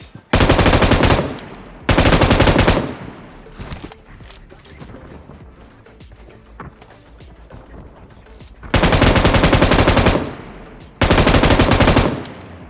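An M249 machine gun fires in BGMI, loud sustained automatic bursts: two near the start, a quieter gap with scattered distant shots, then two more long bursts toward the end.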